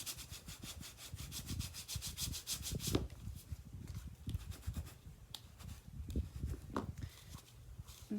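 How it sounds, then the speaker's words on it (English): A paper notecard is burnished with quick rhythmic rubbing strokes, then slower, softer scrapes, all faint and close with no talk. "Give that a good burnish."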